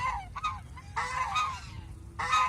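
A brooding duck on a goose farm gives three loud, harsh honking calls at close range, separated by brief gaps over low background noise.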